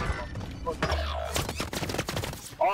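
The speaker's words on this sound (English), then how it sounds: "They're shooting at me." Gunfire in a battle royale shooter: a rapid burst of shots with a low rumble, crackling over background game sounds while a player talks.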